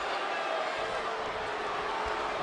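A raucous crowd at a professional wrestling match, AEW Double or Nothing 2024, roars as a dense, steady wash of noise that fills the whole clip, with talking blended into the din.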